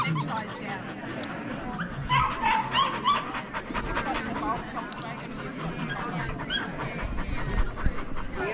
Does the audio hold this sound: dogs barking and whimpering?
yes